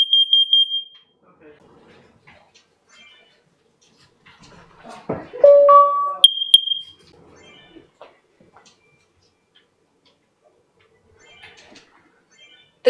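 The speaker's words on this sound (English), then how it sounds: "Testing carbon monoxide." A Nest Protect smoke and carbon monoxide alarm runs its self-test, sounding loud, high electronic beeps at the start and a cluster of alarm tones partway through, with quiet stretches between.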